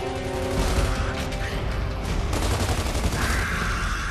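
Mortar fire in the video game Gears of War 2, heard as a dense, continuous barrage of loud blasts and gunfire-like bursts that fill the scene without pause.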